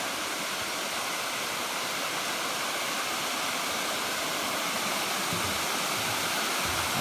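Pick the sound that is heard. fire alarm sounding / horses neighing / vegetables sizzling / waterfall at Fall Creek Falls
waterfall at Fall Creek Falls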